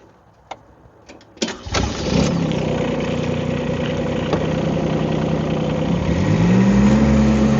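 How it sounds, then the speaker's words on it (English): Rippa mini excavator engines crank and catch after a few clicks and clunks, then settle into a loud, steady mid-pitched running drone that rises slightly toward the end, heard up close. "We'll start the engines."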